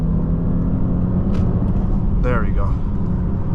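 A 2015 Audi S8 4.0T Quattro accelerates on partial throttle with a steady, loud low engine rumble and road drone from inside the car, and someone speaks briefly over it.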